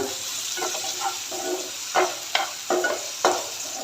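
A spoon stirs through thick tomato gravy for a chickpea and potato curry in a pan, a series of wet scraping strokes over a soft sizzle, with no talking.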